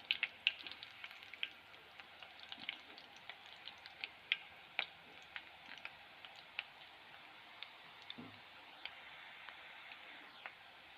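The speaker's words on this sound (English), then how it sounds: "we have to fry this muruku until it becomes" Muruku frying in oil over a low flame, a faint steady sizzle dotted with small irregular crackles and ticks, heard alone throughout.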